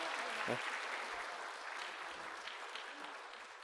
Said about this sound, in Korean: 우리 축복하며 박수하도록 하겠습니다